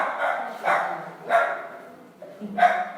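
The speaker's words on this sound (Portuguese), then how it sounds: "Cachorro tá bravo" An angry dog barks in three or four sharp, fairly loud bursts spread across a few seconds, with no talk over them.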